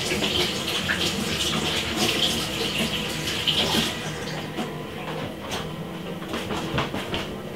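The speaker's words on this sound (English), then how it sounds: "I'm gonna wash off my hand." Running tap water pours steadily over hands being washed in a home kitchen, a close, continuous splashing hiss that softens slightly toward the end.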